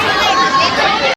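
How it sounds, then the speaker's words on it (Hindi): Dense babble of a large crowd at a big event, many voices chattering continuously and close, loud and steady until a sudden cutoff at the end. "कितनी ज़्यादा भीड़ है यहाँ पे"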